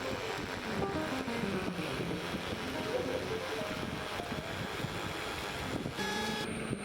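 An ink-free roll printer runs a high-definition print with print depth at maximum. It makes a continuous mechanical whir with shifting tonal whines, steady and close throughout, ending with a brief higher-pitched change.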